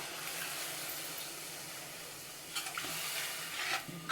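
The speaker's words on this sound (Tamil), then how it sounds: "நம்ம கரைச்சி வச்சுருக்க புளி தண்ணியை ஊற்றிடலாம்." Tamarind water is poured into a seafood curry sizzling in oil, giving a soft, steady frying hiss with a few brief clinks and stirring scrapes near the end, close and quiet with no voices.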